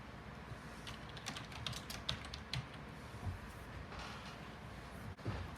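Typing on a computer keyboard during a writing session, faint rapid key clicks in uneven runs over a steady background hum.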